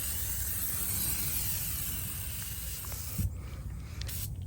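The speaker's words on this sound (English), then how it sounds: "You just basically shake it and then spray it around the tire, shines it." Tire shine sprayed onto a car tire gives a steady, close hiss lasting several seconds, then breaking into short separate bursts near the end.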